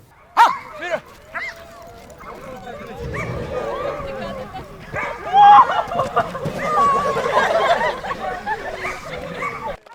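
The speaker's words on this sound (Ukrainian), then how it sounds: "вони побачили, як працюють службові собаки" Police service dogs bark and yip during a training demonstration for schoolchildren, with sharp barks and whimpers rising over a babble of voices and crowd noise.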